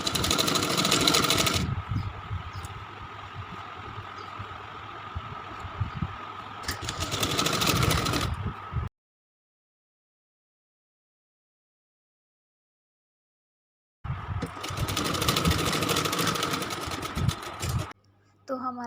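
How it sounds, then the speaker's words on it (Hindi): A sewing machine double-stitches a folded seam on a Rajputi suit in close, steady runs of mechanical whirring. Several seconds of silence break it before another run of stitching. "वहाँ पे हम इस तरह से डबल फोल्ड करते हुए और सिलाई कर लेंगे"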